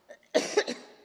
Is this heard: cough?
yes